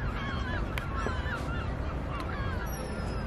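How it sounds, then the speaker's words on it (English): A flock of birds at Colchester Zoo, a busy chorus of honking and cawing calls over a constant outdoor background, with several distinct cries standing out across a few seconds. "And look at all these birds. Swarming."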